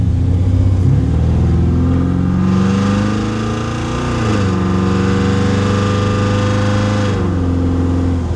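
A classic car, a 1951 Ford Custom or 1956 Chevy Bel Air, accelerates onto a highway, heard from inside as a loud, steady engine drone whose pitch rises and dips through gear changes, with no talking.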